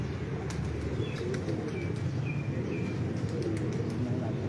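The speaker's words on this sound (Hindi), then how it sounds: "देखो जी कबूतर" Pigeons flying in and settling during a pigeon-flying display, with soft wing flaps and faint coos and chirps over a steady outdoor background noise.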